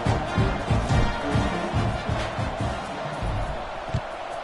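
College football stadium crowd before kickoff at a Baylor at SMU game, a dense roar of cheering and clapping with rhythmic bursts, distant and continuous.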